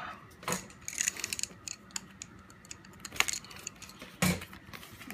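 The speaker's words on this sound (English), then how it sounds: "See if I can get into the box here." Cardboard flaps and card packs of a 2012 Panini mini box of baseball cards being handled and opened, with soft scattered crinkles, taps and rustles close by, and a sharper snap near the end.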